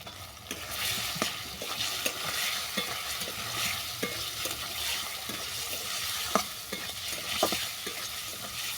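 Potatoes fry in spice paste for an egg curry, a steady close sizzle with regular scraping strokes of a spoon against the pan and no talking.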